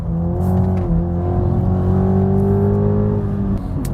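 A Toyota GR Yaris drifting, its engine holding a steady, loud, sustained drone with slight pitch shifts, heard close from the cabin for several seconds.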